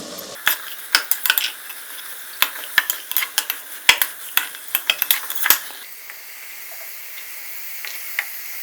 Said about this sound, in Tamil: நம்ம கட் பண்ணி வச்சுருக்கிற வெஜிடபிள்ஸ் எல்லாமே ஒன்று ஒன்றா சேர்த்து நம்ம நல்லா கிளறி விடணும்